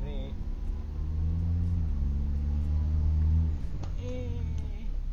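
A Perodua Kancil drives during a brake test with a steady, close engine drone and road rumble from inside the cabin, easing slightly near the end.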